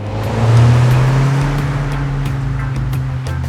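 A 2025 Acura ADX A-Spec's 1.5-liter turbocharged engine with CVT revs up and pulls hard, a loud droning growl swelling then holding steady at close range.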